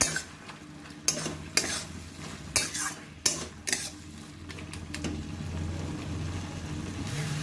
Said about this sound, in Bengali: মাছের মাথাটা দিয়ে আবার ভালো করে কষবো